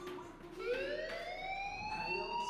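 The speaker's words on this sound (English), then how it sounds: "do you hear that fire alarm? That means you should be outside." Electronic fire alarm in the Life is Strange video game, a rising, siren-like wail with a sweeping tone that climbs steadily and holds loud and continuous, with no talk over it.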